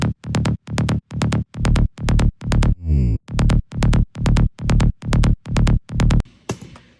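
A layered synth bass, including a trance bass layer, pulses in short, punchy, evenly spaced notes with a brief pitch-sweeping fill midway, heard alone and ending in a noisy tail.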